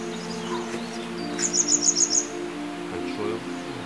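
Small birds chirping outdoors, a quick run of five or six bright, high tweets close together, moderately clear over a steady low background hum.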